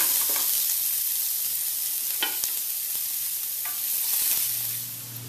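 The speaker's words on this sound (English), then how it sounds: "Alright, our oil's hot. Pan's going. We're going to add our onions." Onions with a pinch of salt hit hot oil in a pan and sizzle steadily and fairly loudly, with a few sharp clatters from the pan along the way.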